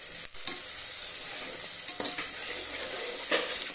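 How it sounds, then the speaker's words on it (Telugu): Fresh ginger paste frying in a pan, a steady bright sizzle close by with a few soft spatula strokes scraping through it, no talking. "ఈ అల్లం పేస్ట్ పచ్చి వాసన వెళ్ళేంత వరకు ఇలా బాగా వేగనివ్వాలి"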